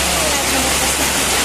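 Floodwater rushing like a river around a countryside home, a loud, dense, unbroken roar of flowing water filling the short moment.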